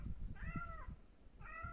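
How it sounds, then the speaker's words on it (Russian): A cat yowls twice in a quiet indoor setting, two drawn-out tonal meows separated by a short pause, faint and close, with soft low thumps underneath. "Кошка орет."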